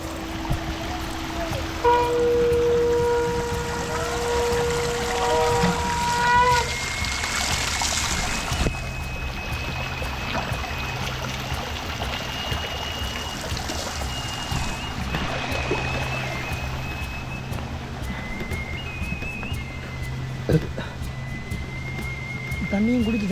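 Water trickling and splashing from a drinking-water pipe at a cold mountain spot, a steady flowing stream under frequent nearby talk, with occasional clinks and shifting splash tones.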